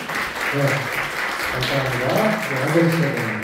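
A church congregation claps to welcome newcomers at a Sunday service, steady applause running throughout beneath a voice speaking over it.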